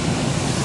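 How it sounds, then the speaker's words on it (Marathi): A waterfall's steady, dense roar, close and loud, with no breaks or voices. "धबधबा मस्त."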